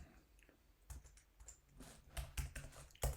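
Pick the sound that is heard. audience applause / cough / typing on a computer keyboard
typing on a computer keyboard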